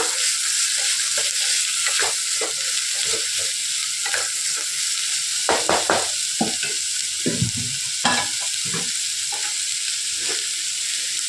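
Mixed vegetables for veg kurma sautéing in a pan, a steady bright sizzle broken by repeated scraping stirs with a spoon, close and fairly loud with no talking.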